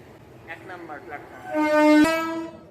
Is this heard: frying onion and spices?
no